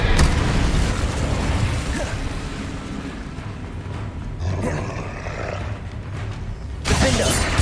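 Fire spells such as Confringo and Incendio blast in a Harry Potter video game, a roaring burst followed by a rumbling crackle, then a second loud whoosh at the end, with some talk mixed in.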